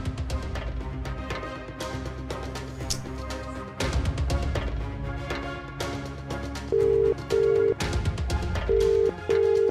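Repeated telephone ring tones, four evenly spaced beeps sounding loud and close, come in the second half of a scene from a Marathi TV drama and go unanswered, laid over a background music score.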